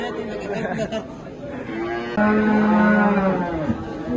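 Dairy cows at a Kara-Balta livestock market moo in a long, loud, low bellow near the mic, with crowd chatter and voices throughout.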